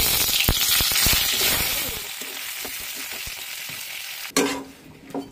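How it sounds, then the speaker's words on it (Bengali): Pointed gourd fries in hot oil in a kadai, a loud close sizzle with scraping stirs and clicks that suddenly drops to a quieter crackle near the end. "এখন আমি পটলগুলো ভেজে নেব"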